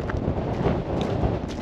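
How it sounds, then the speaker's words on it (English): An easterly wind blows across a grey wintry fell in the Yorkshire Dales, buffeting the microphone in a continuous loud rumbling roar with no speech. "I've got an easterly wind on my face"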